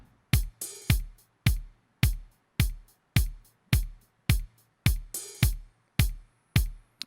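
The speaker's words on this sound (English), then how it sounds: "the hi-hats, of course, which is playing similar to what the kick drum is playing." Sharp, punchy drum hits fall in a steady soca rhythmic pattern, a kick thump blended with crisp high hi-hat ticks playing along with the kick, close and dry with no voices.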